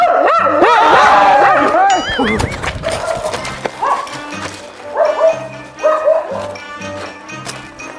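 A dog barks, yips and whimpers close by in a village during a Ganpati festival collection round, with people's voices mixed in.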